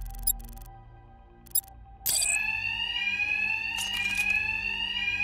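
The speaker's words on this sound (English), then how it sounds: "Two-Face's thugs won't hear me over the alarm." An alarm in Batman: Arkham Knight starts ringing partway through, a loud continuous electronic bell. Two short clicks come first over a low game hum.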